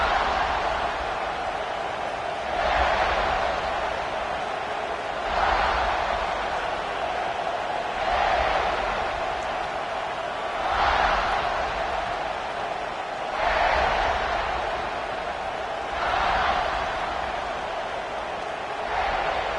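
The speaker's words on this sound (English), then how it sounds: "This crowd ready to make its presence known." Football stadium crowd cheering at a USC game, a broad roar swelling in repeated waves every few seconds, loud and continuous with no clear talk over it.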